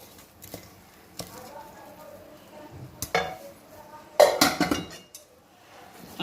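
Hot Mysore pak scraped from a pan into a tin, heard as scattered metallic scoops and clinks of a spoon against metal, with a louder cluster of scraping knocks near the end, close and alone.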